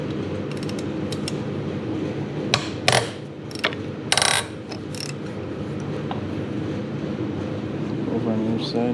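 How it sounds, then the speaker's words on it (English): Half-inch breaker bar working loose the rocker box bolts on a Harley-Davidson Evolution Sportster during a top-end teardown, giving a few sharp metallic ratchet clicks and creaks around the middle, with workshop handling noise throughout. "Sometimes you gotta use a big 1/2-inch breaker bar on these."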